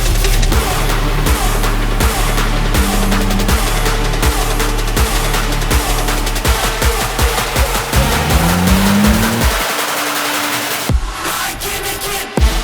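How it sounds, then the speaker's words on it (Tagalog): At a national drift championship, a drift car attacks a corner fast in fourth gear, with a loud engine roar and rapid popping rattle before a rising whine and a brief drop near the end. "You have to commit and come in really fast, fourth gear, before you attack the corner"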